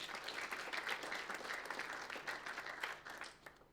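Audience applause at a Lithuanian sports journalists' federation awards ceremony, a steady dense clapping from a crowd that carries on for several seconds and thins out toward the end.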